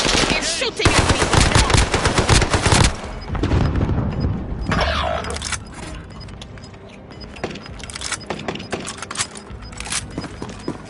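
Automatic gunfire and explosions in the Call of Duty Warzone video game, loud and dense: sustained bursts of rapid shots with heavy booms early on, then scattered shots and thuds continuing at a lower level.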